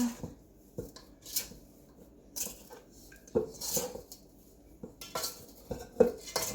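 A spoon works kitchen sink cookie dough in a bowl, scraping up dry ingredients from the bottom, making intermittent close clinks and scrapes against the bowl.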